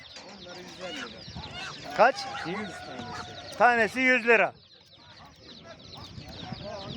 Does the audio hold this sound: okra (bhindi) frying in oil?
no